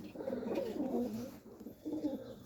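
A two-year-old Serbian Highflyer hen pigeon coos in soft, low, rolling phrases, two bursts with a short pause between, heard up close with faint background noise and no talking.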